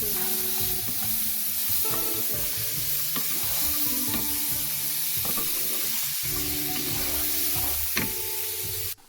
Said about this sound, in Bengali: দিয়ে দিচ্ছি কেটে রাখা বরবটিটাকে দিয়ে মশলার সাথে খুব ভালো করে মিশিয়ে নিচ্ছি